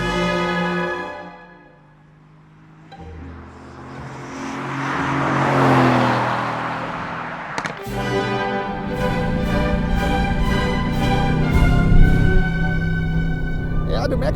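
Mercedes-AMG GT R on a wet race track, the engine revving through rising harmonic pulls, dropping into a hissing rush of spray and then climbing again through gear changes, close, with someone talking over it.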